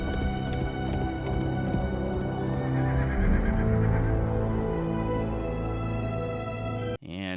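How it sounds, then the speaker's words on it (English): Horse in a field, loud whinnying and neighing with clip-clop hooves over a rich music bed, ending in a sudden cut. "In this episode, we see a horse running in the field."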